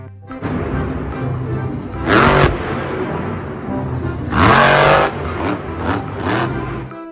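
A toy monster truck plays a revving engine sound effect, a buzzing motor drone broken by two louder, rasping bursts of acceleration, fairly close and loud.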